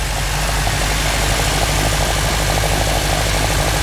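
A 1956 Alfa Romeo Giulietta Spider engine idles steadily and close after a carburetor adjustment, giving a continuous low, even rumble with no voices over it.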